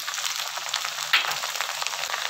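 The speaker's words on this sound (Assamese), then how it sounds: "এতিয়া মই তাতে সৰিয়হ অলপ দি দিছোঁ" Mustard seeds hit hot oil in a frying pan, making a constant close crackle and sizzle with a brief louder spatter partway through.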